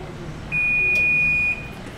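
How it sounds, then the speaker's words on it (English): A kitchen timer sounds while cupcakes bake, one steady, clear high beep lasting about a second, close and loud over a quiet room. "That's our timer."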